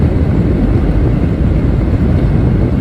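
A van with a freshly rebuilt engine, new turbo and new fuel injectors cruises on cruise control with the window open, giving a steady, loud roar of wind buffeting and road rumble that holds unbroken throughout.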